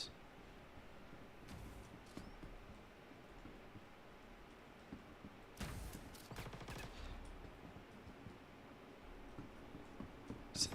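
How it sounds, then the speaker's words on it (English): Gunfire in the Star Citizen video game: a cluster of sharp shots around the middle of the clip, with a lone burst near the end, all over a steady hiss of background noise. "Since they're shooting that guy"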